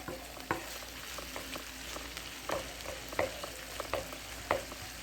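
Ground meat browns in a skillet with a steady, quiet sizzle, broken by occasional sharp scrapes and clicks of stirring.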